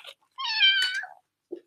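A house cat gives one clear, drawn-out meow close by, followed by a soft short chirp in an otherwise quiet room.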